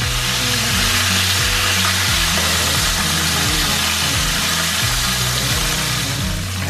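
Fish frying in hot oil in a home kitchen, a steady loud broadband sizzle running throughout with a rhythmic low pulsing underneath, no talking.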